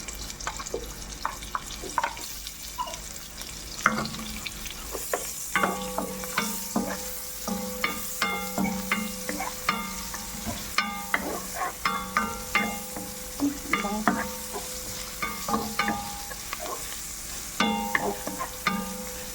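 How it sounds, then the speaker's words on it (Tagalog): Onion frying in olive oil in a pan, a steady crackling sizzle with frequent rhythmic spatula scrapes and stirring clatter throughout, close and fairly loud, with no voices. "So, may olive oil kami ngayon kaya maglalagay ako. Unahin ko ako yung sibuyas."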